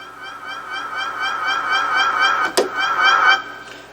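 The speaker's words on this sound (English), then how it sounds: "Siren." A Yamaha PSR-EW410 keyboard's synthesized siren wails with a rapid warbling pitch, held steady for several seconds, with a brief click partway through before it cuts off.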